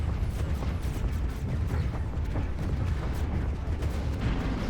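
Torpedoes and lasers firing in a Stellaris space battle: a dense, continuous barrage of booming, crackling bursts and rapid pops, loud and unbroken from start to finish.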